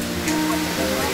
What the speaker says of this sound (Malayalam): ഒരു ഭയങ്കര വലിയ വെള്ളമൊക്കെയും പക്ഷെ നല്ല കൂളായിട്ടുള്ള വെള്ളം, പരന്നൊഴുകുന്ന ഒരു വെള്ളച്ചാട്ടം.